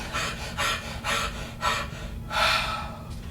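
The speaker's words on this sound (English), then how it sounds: "He was breathing very hard from his run." Heavy, rapid breathing of a man who is winded after a run, heard as a staged radio-drama effect: five loud gasping breaths in a steady rhythm, close to the microphone, with no talking.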